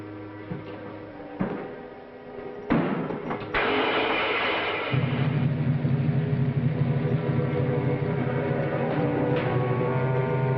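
A car motor starts with a few sharp knocks and a thump, then settles into a steady low idle rumble that runs on alone to the end.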